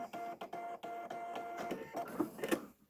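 A sewing machine stitches fabric for a pleated face mask, a close, rapid mechanical whirring in short bursts with brief pauses between runs.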